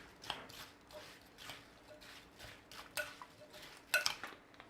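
A spoon stirring a cornstarch and water slurry into a pastry filling, faint close clinks and scrapes against a bowl in an irregular rhythm, with no talking.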